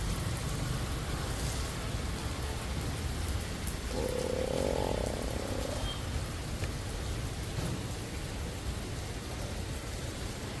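Steady rain falls outside, a continuous broadband hiss of drops on surfaces with a faint frog croak rising briefly partway through, no voices present.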